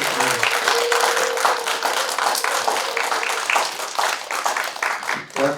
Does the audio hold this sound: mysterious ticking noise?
no